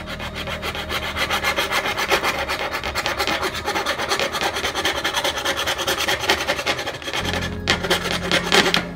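Hand-sawing the rough contours of a wooden knife handle in a cellar workshop, a steady rasping back-and-forth stroke running continuously and close, with a brief change in tone near the end.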